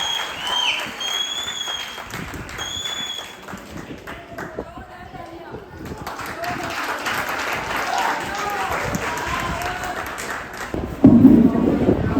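Audience applause at a children's cultural stage performance event, a sustained wash of clapping that swells toward the end, with background voices mixed in.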